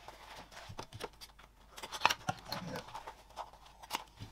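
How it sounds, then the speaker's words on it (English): Quick, crisp snips of small scissors clipping fabric curves, a series of small close clicks with short gaps between them, quiet overall. "I usually start with a big pair of scissors and then go in with a little one to clip them"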